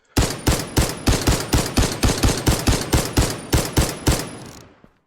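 An M1 Garand semi-automatic rifle fires in a Minecraft gun mod, with about sixteen loud, evenly spaced shots in a rapid steady rhythm, each with a short decaying tail, followed by a brief pause and one faint click.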